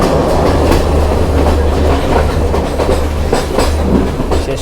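A passenger train in Sri Lanka runs on its rails with a loud, continuous rumble and rhythmic clickety-clack of wheels over joints, heard close from inside a carriage.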